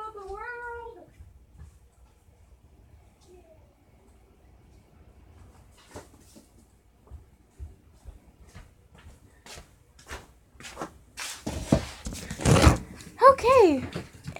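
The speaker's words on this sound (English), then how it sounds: "The cat running around, attacking that cute little thing, and causing havocs." A cat meows at the start, then scampers around a room causing havoc: scattered thumps and scuffles build into a loud burst of clatter, followed by another meow near the end.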